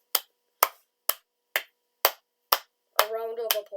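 About seven slow, evenly spaced hand claps ring out sharply and close up, as if from a single person. A voice starts talking over the last clap.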